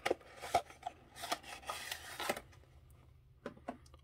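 Knife slicing and scraping through plastic toy packaging and tape on a Galaxy of Adventures figure, a series of close, soft rasping cuts and rubs in short bursts, then quieter pauses with a couple of final scrapes.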